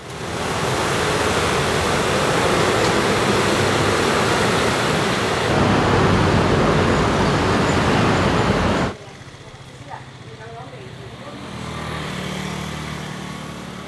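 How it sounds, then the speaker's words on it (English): Loud, dense roar of gasoline scooter engines and road traffic in Taiwan, steady and close, then dropping abruptly to a quieter street hum. "The second problem with gas scooters is the noise."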